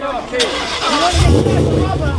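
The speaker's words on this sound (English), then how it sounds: "We're going to light it up with a nice burnout." A car at a car show revs up for a burnout, the engine climbing to a loud, close roar while people shout excitedly over it.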